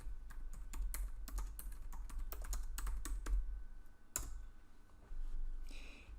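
Someone types a search on a computer keyboard, a quick run of close, crisp key clicks that slows into a few scattered taps near the end.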